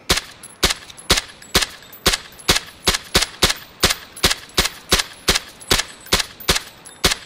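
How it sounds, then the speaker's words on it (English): Gunfire in the battle royale game PUBG: a steady, rapid string of sharp, loud shots at an even rhythm, about two to three per second, running for several seconds with no talking. "Shoot out the tires."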